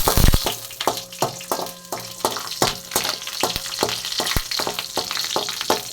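Raisins and cashews frying in a pan for a red poha and sago payasam, with a steady sizzle and repeated sharp scraping clicks of a stirring spoon against the pan, close and fairly loud, no talk.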